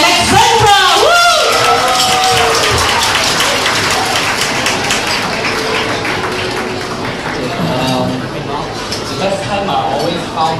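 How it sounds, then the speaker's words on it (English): Wedding guests applaud the couple at the reception, with clapping mixed under an excited voice and scattered whoops from the crowd; the sound stays fairly loud and busy across the whole stretch. "a round of applause to Wilson and Alexandra"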